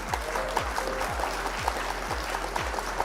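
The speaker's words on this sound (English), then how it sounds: "Round of applause for our opponent." Applause for an opponent during a card game stream: a thin, steady wash of clapping, moderately quiet and somewhat distant, with a low rhythmic thumping pulse underneath and no speech.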